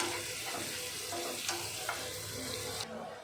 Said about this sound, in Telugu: సో ఇలా ఫ్రై అవుతుంది కదా